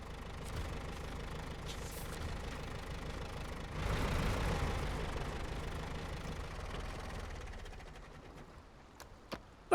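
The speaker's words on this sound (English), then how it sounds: "the engine just never changes its audio, no matter what you're doing. It just sounds like a generator turning over all the time." Truck engine idling in the SnowRunner driving game, a steady low drone like a generator running that holds unchanged for about ten seconds, swelling slightly midway, with a couple of brief clicks near the end.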